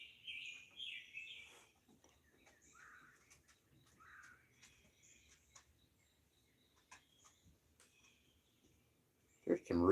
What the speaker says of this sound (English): There's some really crazy sounding birds around here.